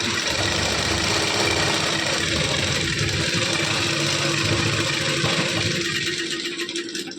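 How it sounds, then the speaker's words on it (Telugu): A sewing machine runs a straight stitch along a blouse side seam, a continuous close motor whir with rapid mechanical ticking that slows near the end. "ఇప్పుడు డైరెక్ట్ కుట్టు అయితే వేసేసుకోవడం"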